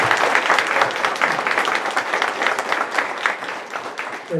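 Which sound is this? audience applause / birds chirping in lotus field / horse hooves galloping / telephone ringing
audience applause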